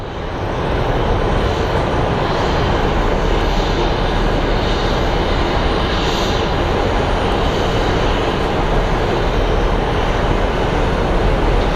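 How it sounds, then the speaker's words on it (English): WestJet airliner taking off toward Calgary, its engines a loud, steady roar that holds across the whole stretch with no voices on top. "So we have our WestJet headed to Calgary."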